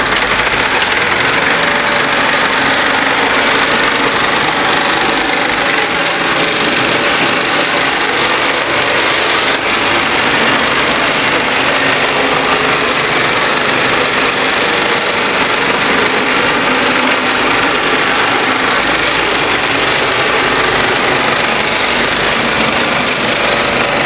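A mattress sewing machine runs steadily in a factory, giving a loud, continuous mechanical drone with a constant rhythmic whir throughout, with no voices.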